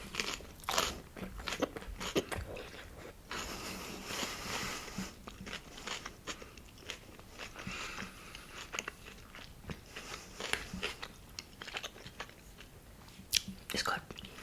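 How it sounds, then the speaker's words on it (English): Crunchy chewing of a mouthful of raw bell pepper and tomatoes with edamame, dressed in chili oil, close to the mic in an ASMR mukbang, with repeated soft bites and crackly crunches at low volume. "It should be very crunchy because it's quite a lot of raw veggie"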